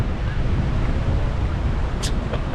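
Wind rushing steadily past an open-air train ride, a continuous loud buffeting roar with a couple of faint brief higher sounds near the end.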